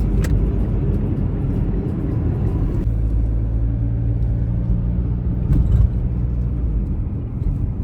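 A car drives along with a steady, loud low rumble of engine and road noise from inside the cabin, a faint click near the start and a brief bump or rattle just past the midpoint.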